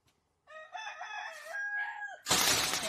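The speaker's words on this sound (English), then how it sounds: "There's a rooster that made that noise." A rooster crows once, a loud, clear harmonic call rising and falling, followed by a sudden burst of broadband noise like a crash or rustle.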